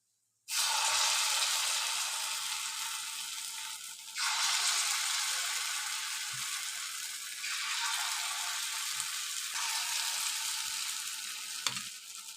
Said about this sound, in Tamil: கல் காஞ்சிருச்சு எண்ணெய் ஊற்றிருக்கேன் மாவு ஊற்றலாம்